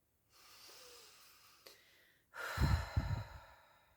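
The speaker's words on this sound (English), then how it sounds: "Deep breaths." Slow, deep conscious breathing close to the mic: a soft, long inhale followed by a stronger, audible sighing exhale, quiet and unaccompanied by talk.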